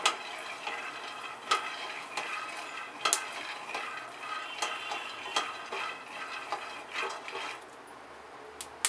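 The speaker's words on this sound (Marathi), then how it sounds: "आता शेंगदाण्याचा आवाज तडतड यायला लागला" Dry-roasting peanuts give off sparse, irregular crackles and pops over a soft, steady hiss, quiet and close.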